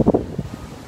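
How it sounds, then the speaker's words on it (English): Low, rumbling wind buffets the microphone in uneven gusts, strongest at the start and then settling into a softer blustery roar. "today is a nice windy day, cloudy day, very comfortable, and the wind so nice"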